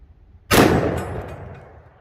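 One loud, close gunshot from a .454 Casull round fired out of a Smith & Wesson 460 Magnum revolver, a sharp blast followed by a long, fading outdoor echo.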